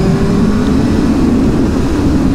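A 2021 Suzuki Hayabusa motorcycle accelerates hard to overtake, its engine note rising in pitch under heavy, steady wind roar, loud and close from the rider's position.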